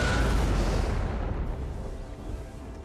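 Cannon artillery firing in the video game Empire Total War: a loud, dense rumble of booming blasts fills the moment, strongest at the start and slowly fading into a rolling, noisy roar.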